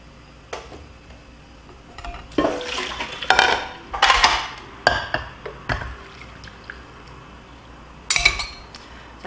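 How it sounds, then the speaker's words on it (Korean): Kelp is lifted out of a pot of water about to boil, with scattered metallic clinks of utensil against pot and light splashing and stirring between quieter pauses. "다시마는 이제 끓으려고 해서 건지도록 할게요."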